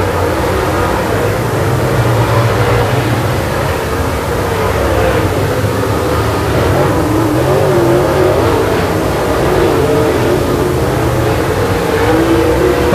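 Late model stock cars race on an oval track, a dense, steady roar of several engines running together at full throttle with no gaps, loud and continuous throughout.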